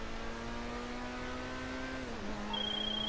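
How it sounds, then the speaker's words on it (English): McLaren 570S, the Progen Itali GTB in GTA Online, accelerating hard from a standstill: a steady engine note climbs through the revs, dips briefly at a gear change near two seconds, then pulls on, loud and close with no talking. "So acceleration from here starting now. 0 to 60 pretty quickly."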